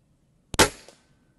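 A single sharp shot from an Air Arms TX200 HC .177 underlever spring-piston air rifle, a loud crack with a short ringing decay and a faint pellet strike a moment later, then quiet.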